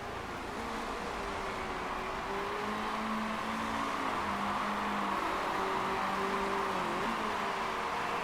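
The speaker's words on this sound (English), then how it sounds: "More cars starting to pass Lehane." Race cars in the Motorsport Manager video game, 2016 Black Sea race, drone steadily with shifting engine pitch as cars pass, a continuous loud whine throughout.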